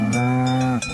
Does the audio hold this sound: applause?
no